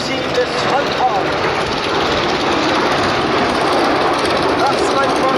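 Red Arrows jet aircraft roar through an air display, a loud steady broadband rush of engine noise sustained throughout with no pauses.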